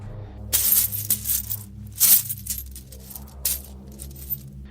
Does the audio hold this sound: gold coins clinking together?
yes